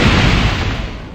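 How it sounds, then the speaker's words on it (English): A grenade-launcher round exploding in Tomb Raider II, one loud, close boom with a broad rumbling body that decays over about a second. "the explosion from the grenade"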